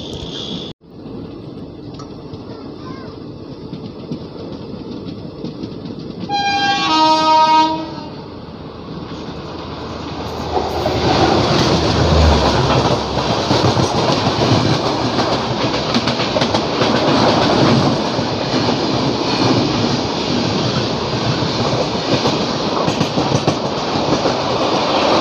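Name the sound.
Rajdhani Express train running on rails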